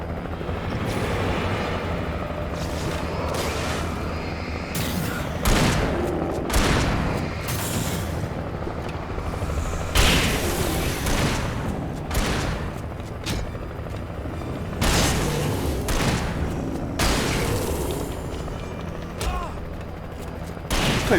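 Gunfire in Alan Wake Remastered, repeated distant shots and booms from an enemy firing at range, landing as loud bursts over a dense, rumbling game soundscape with steady background noise throughout.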